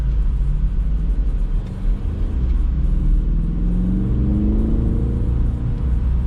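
A 2021 BMW X7 M50i engine pulls hard under acceleration, a loud, steady low rumble with a rising drone heard from inside the cabin, with no talking over it.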